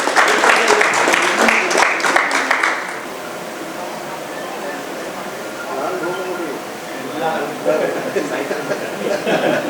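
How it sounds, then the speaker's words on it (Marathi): An audience claps loudly at a felicitation ceremony for three seconds, then the applause stops and a voice speaks over a microphone. "सर्वांनी जोरदार टाळ्या वाजवायच्या आहेत."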